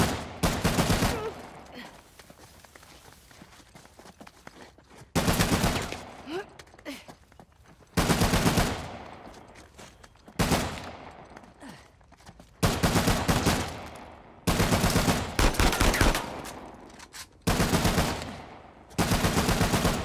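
Bursts of automatic weapon fire in Uncharted: The Lost Legacy, set in the Western Ghats, come in about eight loud, evenly spaced volleys, each a couple of seconds long and separated by brief quieter gaps.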